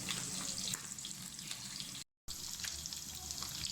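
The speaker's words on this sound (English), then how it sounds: "This has been frying for 2 minutes on one side" Beef frying in a pan for Cameroonian fried rice, a steady close sizzle and crackle with running-water hiss, briefly cut out midway.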